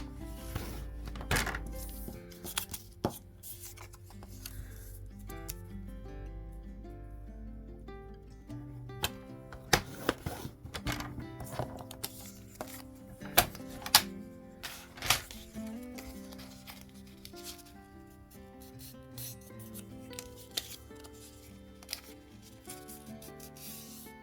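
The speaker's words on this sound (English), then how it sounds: "So I'm just going to score it along the 1/2 inch mark." A paper card end piece is scored along a half-inch mark, making quiet, intermittent scratching and rubbing strokes with occasional sharper taps, close up and without speech.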